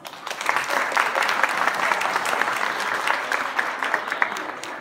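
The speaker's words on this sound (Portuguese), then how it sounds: "Podem bater palmas" An audience at a university event breaks into steady applause, dense overlapping claps sustained for several seconds without letup, fairly close and loud.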